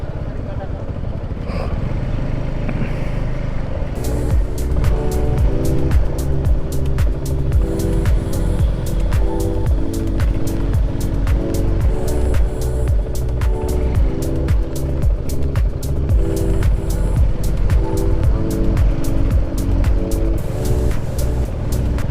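Suzuki Gixxer 250cc motorcycle being ridden, its engine a steady loud drone throughout with a sharper rise partway in, joined by regular clicks and faint tonal beeps.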